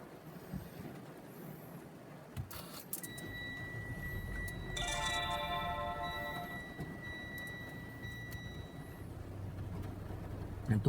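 A Mitsubishi Xpander chimes its seatbelt warning on a rainy, dark morning as the car is started, a steady repeating electronic tone running for several seconds over engine and rain noise.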